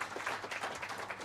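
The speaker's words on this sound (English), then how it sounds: "will you all please join me to give a round of applause to the team behind this event today?" Audience applause fills the whole short moment, a steady, dense clatter of many hands clapping at once in an event hall.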